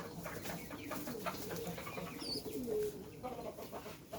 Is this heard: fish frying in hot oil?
no